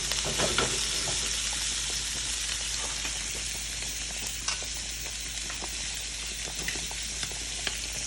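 Shrimp sizzle steadily in a hot frying pan with tomatoes and capers, a dense continuous crackle and spatter throughout with a few sharper pops, close and with no talking over it.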